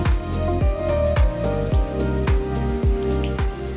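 Rain falls outdoors in a steady patter, with repeated heavier drips and splats landing close by at an uneven rhythm.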